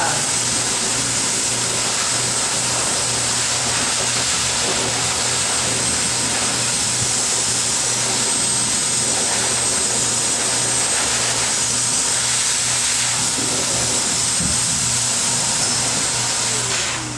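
A loud, steady pet grooming blower dryer roars without pause while a cat is groomed, a constant rushing hum of motor and air that fills the whole stretch.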